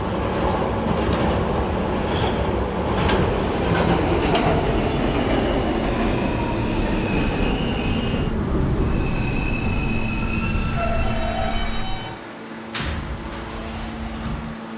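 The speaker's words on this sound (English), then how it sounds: "This is a Kathleen bound K train." An R160A subway train on the K line rumbles steadily close by with wheels squealing and metallic rail noise, holding a loud continuous roar that dips briefly near the end.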